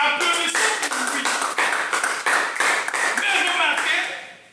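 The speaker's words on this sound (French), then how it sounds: "le conducteur de ton a bien chanté, on peut applaudir pour lui" A church congregation applauds together during a service, with dense, steady clapping that stays loud and close for the whole stretch before tapering off at the end.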